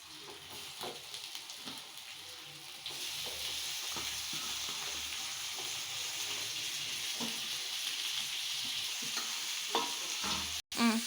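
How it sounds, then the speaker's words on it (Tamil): Onions and tomatoes sauté in a pan with a continuous sizzle that grows fuller after a few seconds, while a spoon stirs with soft, intermittent scrapes and knocks. No speech. "லைட்டாக ப்ரௌன் கலர் வர்ற மாதிரி நம்ம வந்து வதக்கணும். இப்போ அடுத்து தக்காளியை போட போகிறோம்."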